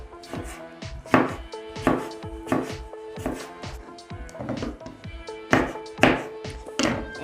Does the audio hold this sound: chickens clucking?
no